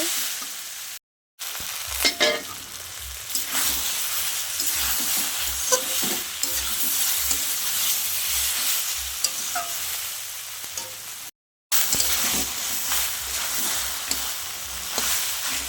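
Fish head frying in a pan with mixed vegetables, a continuous loud sizzle with rhythmic stirring scrapes, twice cut off briefly before resuming.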